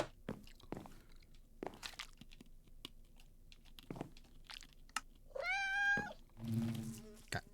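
A house cat in Minecraft: Bedrock Edition gives a single clear, rising meow, then a second, lower meow, amid soft scattered clicks and taps in a quiet setting.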